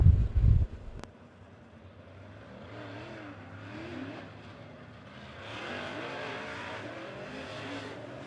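USRA A Modified race cars roar through a heat race on a dirt oval, a loud burst up front giving way to sustained engine drone that swells and fades as cars pass at a distance.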